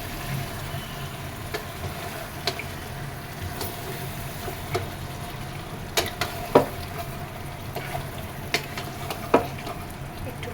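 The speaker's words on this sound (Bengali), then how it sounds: "খাসির মাংসটা খুব ভালোভাবে কষিয়ে নিলাম" Mutton sautés in a pan, a continuous close sizzle running under repeated spatula taps and scrapes, a few sharper knocks standing out at irregular intervals; no speech.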